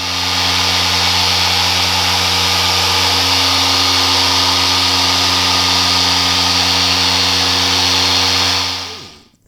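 A Shinemate EX-605 dual action car polisher runs in an enclosed shed, giving a loud, steady, close whirring drone that holds evenly before winding down and cutting off at the end.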